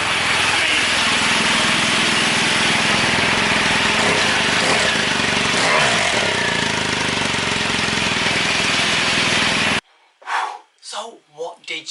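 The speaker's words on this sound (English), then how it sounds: "Did you like the engine starting?" A loud engine runs and idles steadily for several seconds, then cuts off abruptly, followed by brief gasping breaths close by.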